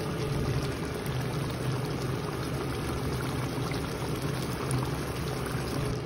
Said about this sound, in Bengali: দেখতে পারেন একটা বয়ল দিয়ে দিয়েছি আমরা অলমোস্ট 5 মিনিটসে